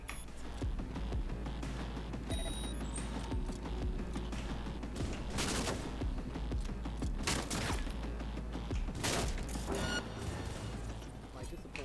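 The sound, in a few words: gunfire in the video game Cyberpunk 2077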